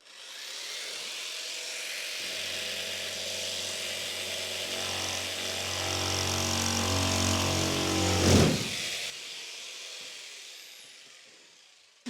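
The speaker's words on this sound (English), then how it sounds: "this is what's known as the plunge cut, where we're going to cut down into the timber without drilling a hole first" A plunge-cut saw sinks down into softwood timber during ceiling work in a 1975 Viscount caravan, a loud steady whine that deepens into a laboring cut for several seconds, then spins down and fades.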